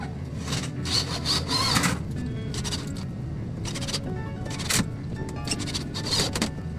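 A power drill drives screws through a mirror cabinet during installation, giving several short bursts of whirring and grinding close by, separated by brief pauses over a steady background hum.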